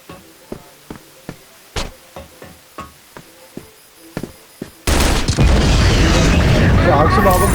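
Gunfire crackles in a CrossFire online shooter clan match, a series of sharp, separated shots, then a sudden loud explosion erupts and sustains a dense roar to the end.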